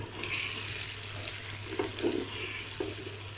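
Water is poured into a cooking pot of spiced haleem, a steady splashing pour with light sizzling underneath, moderately quiet with no speech.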